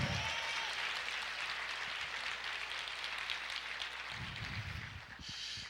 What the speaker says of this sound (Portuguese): Você pode aplaudir o Senhor e dizer amém.